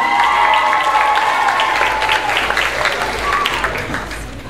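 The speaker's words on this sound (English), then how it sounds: "Give them a round of applause." An audience breaks into a round of applause for a group of young performers, a dense burst of clapping that carries on steadily while a voice speaks over it at the start.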